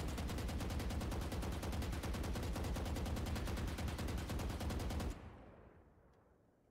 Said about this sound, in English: shoot once at the wall and try to keep the rest of the bullets in that area